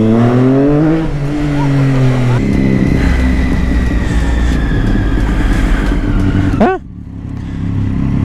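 Motorcycle engine accelerating hard and loud up close, its pitch climbing through gear changes and dropping off sharply near the end, with people talking over the roar.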